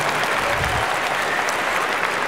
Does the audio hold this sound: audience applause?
yes